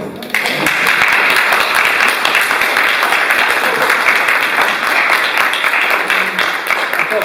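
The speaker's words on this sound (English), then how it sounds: "A lot of applause, I think." An audience at a book launch breaks into loud applause that starts abruptly and holds steady for several seconds, dense clapping from many people in a room.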